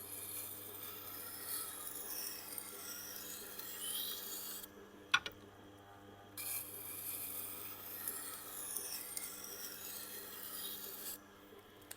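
A single bevel Japanese knife rubbing steadily on a Tormek T8 sharpening wheel, a continuous rasping hiss broken by two brief pauses and a sharp click, fairly quiet with no talk.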